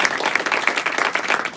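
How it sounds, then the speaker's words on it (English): A conference audience claps in a short, dense burst of applause, steady and fairly loud throughout, with no talking over it. "So she deserves another hand of applause."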